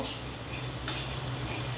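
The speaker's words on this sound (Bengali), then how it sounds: "এবার ভালো করে রোস্ট করে নেব" Whole cumin and coriander seeds with a little salt dry-roast in a pan over low flame, giving a soft, continuous faint rustling sizzle with light stirring scrapes.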